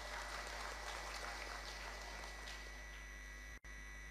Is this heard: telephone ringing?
no